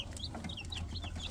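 Rhode Island chicks or young chickens clucking and peeping in short repeated calls over a steady low hum, close and moderately loud, with no talk.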